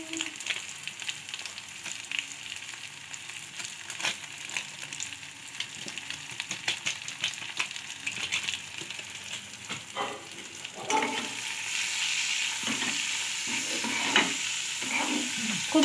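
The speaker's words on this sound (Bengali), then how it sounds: "মশলাগুলো ভাজা হয়ে গেছে।" Spices with turmeric fry in a pan over a low gas flame while being stirred, with a steady close sizzle and scraping strokes that grow louder and busier partway through, no talking.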